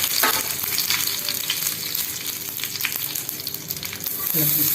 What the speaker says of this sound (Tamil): கடுகை போட்டுடலாம். கடுகு வடிக்கட்டும்.